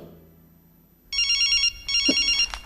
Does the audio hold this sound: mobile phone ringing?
yes